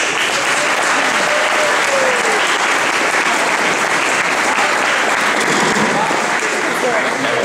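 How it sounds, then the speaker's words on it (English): Loud, sustained applause from a wedding crowd after toasts to the bride, dense clapping filling the whole stretch without letup. "A round of applause for 2 great toasts to our bride."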